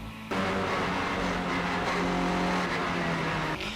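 Mini race car at full throttle on the Gurston Down speed hillclimb, its engine holding a loud, steady, high-revving roar from a sudden start to near the end, with no talk.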